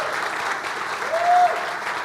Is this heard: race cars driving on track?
no